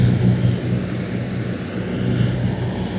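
Piper Seneca and Cessna 414 twin-engine airplanes taxiing in a parade, a steady low propeller engine drone holding at moderate distance throughout, with no one speaking.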